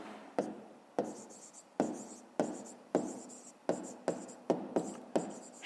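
Chalk or marker writing on a board during a math lesson, about a dozen distinct scratchy strokes in an uneven rhythm, close and fairly quiet, with no speech over them.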